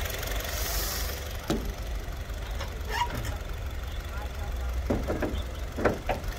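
A 2016 Honda City with an automatic transmission idles smoothly close by, a quiet steady engine hum with a few faint clicks and brief background sounds.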